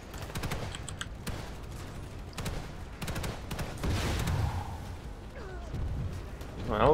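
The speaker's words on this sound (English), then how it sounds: "A little bit of suppression fire just to keep everyone ducking." Anti-vehicle turret fire in Planetside 2 lands as a series of heavy, spaced shots in bursts, close and punchy, amid game background noise and a voice speaking over it.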